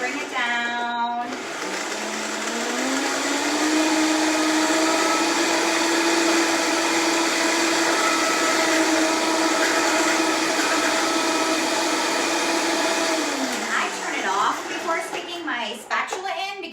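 A kitchen blender whirs up and runs at a steady high pitch, pulverizing spinach for a green detox smoothie, then winds down near the end; a voice may be heard faintly beneath the motor.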